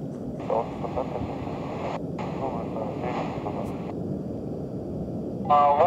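Steady engine roar inside an Ilyushin Il-76MD transport during its takeoff at Chkalovsky airfield, a loud continuous drone beneath band-limited radio voices exchanging clearances.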